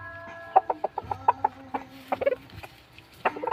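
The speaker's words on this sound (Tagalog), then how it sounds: "nasa breeding pen tayo ng manok ko" Gamefowl chickens in a breeding pen cluck in short bursts close by, a quick series of sharp clucks with brief pauses, alone with faint background hum.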